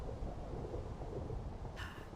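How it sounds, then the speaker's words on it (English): Video game rain and thunder in a city-building game: a dense, continuous rumble and hiss of rainfall with low thunder, fairly quiet and steady, joined near the end by a brief brighter noise. "I'll turn the rain off in a minute because I don't like that rain."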